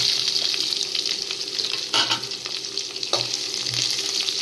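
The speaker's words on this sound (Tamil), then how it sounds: "சின்னதாக நறுக்கின வெங்காயம் போட்டு நல்லா வதக்கி விடுவோம்" Finely chopped onions sizzle and fry in a hot pan for a raw banana stir-fry, with occasional scraping stirs punctuating the steady crackle, close by.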